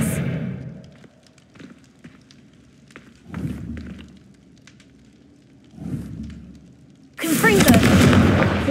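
Confringo blasting spell in Hogwarts Legacy, producing a few heavy booming blasts spaced several seconds apart, the last one loudest and crackling, over a quiet game background with muffled thumps and bits of speech.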